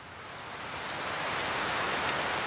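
Rain falling in an anime scene, a dense steady hiss of downpour that swells slightly louder as it goes, with no voices over it.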